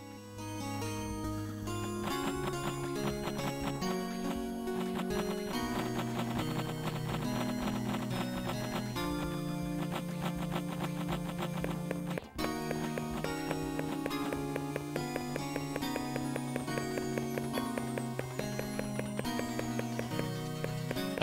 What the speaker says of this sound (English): Whoa, a horse.